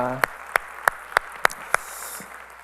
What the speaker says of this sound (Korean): 우리 찬양을 받을 주님께 영광의 박수를 올려드리겠습니다.